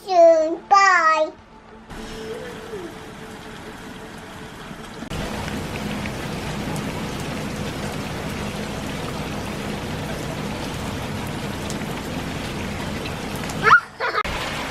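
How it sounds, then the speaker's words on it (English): Heavy rain pours steadily onto a street, a dense continuous hiss that swells louder partway through, with a voice heard briefly at the start. "Lots of rain, isn't it?"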